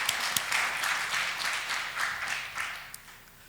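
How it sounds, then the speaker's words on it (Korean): A Korean church congregation gives a round of thankful applause to God in a sanctuary, moderately loud scattered clapping that gradually thins out over a few seconds. "먼저는 영광의 박수, 감사의 박수를 올려드리도록 하겠습니다"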